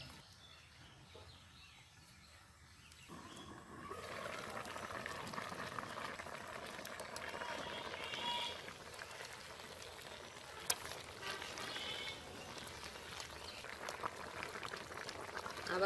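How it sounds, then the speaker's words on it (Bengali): Fish curry topped with chopped tomato simmers in a covered pot in a village kitchen, a steady bubbling hiss that thickens after the first few seconds and carries on unbroken, with faint background noise. "এখন আমি মাছগুলো সেদ্ধ হওয়ার জন্য ঢেকে দিচ্ছি।"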